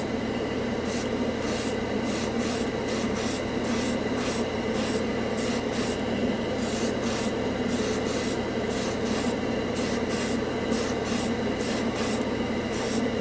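An airbrush sprays Tru-Color solvent-based automotive model paint, a continuous loud hiss broken by rapid rhythmic bright pulses as the trigger is worked, steady and close without speech.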